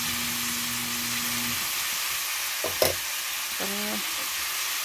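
String beans and eggplant sizzling steadily in a frying pan, a constant loud hiss with a couple of brief clanks from stirring.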